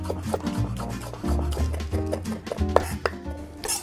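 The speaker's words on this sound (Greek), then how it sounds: "Πατάμε το μαχαίρι, πιέζουμε να λιώσουμε το σκόρδο και ψιλοκόβουμε." A kitchen knife presses down to crush garlic cloves and then chops them finely on a board, giving rapid uneven taps and scraping rubs. The sound is close and steady, with no talking, while preparing the sauce for a classic bolognese lasagne.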